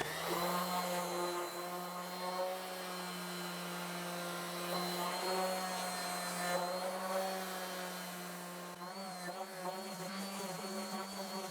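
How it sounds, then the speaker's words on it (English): A scrap wood base being sanded with a power sander to round off sharp corners, a steady, close, high-pitched whine with a constant buzzing hum and slight shifts as pressure changes. "I'm going to give this base a quick sand because it has some sharp corners that need to be softened up"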